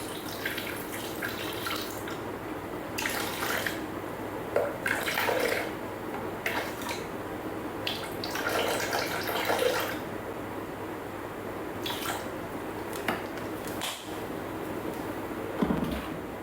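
Water poured into a Thermomix bowl, a gurgling splashy stream coming in several bursts of varying strength over quiet kitchen background, with a few drips and clunks between pours.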